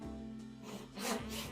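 A hand saw cuts a kerf across a board in a garage, a few close, soft rasping strokes in quick succession with a slightly louder stroke near the end.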